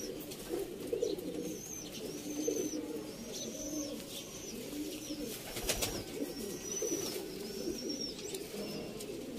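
Sialkoti pigeons coo in soft, repeated low rolling calls, several birds overlapping at a steady pace, close and moderately quiet, with faint higher chirps above.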